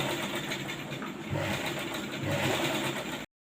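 Sewing machine stitching slowly through a lined blouse with a four-tuck design, a steady mechanical whir that picks up slightly in speed partway through, close and alone before cutting off abruptly.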